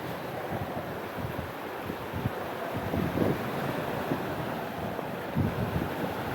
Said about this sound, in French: remonter au près dans une mer comme ça, même pas en rêve. C'est croisé, c'est haché, c'est tout ce qu'on veut.